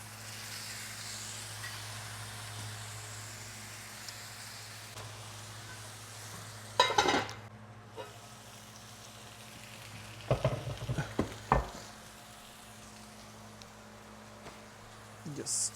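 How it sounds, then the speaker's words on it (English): Ground beef burger patties frying quietly in a pan, a soft steady sizzle throughout with a few sharp clatters and scrapes of a utensil around the middle, and someone speaking now and then. "So we're cooking ground beef I made into burger patties"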